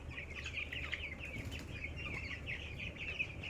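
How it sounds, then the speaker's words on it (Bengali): Broiler chickens feeding and shifting about on a poultry farm, faint steady chirping and soft clucking from the flock over low background noise, with occasional rustles of movement. "দেখেন মুরগি খাচ্ছে এই যে নাড়াচাড়া করছে মুরগি"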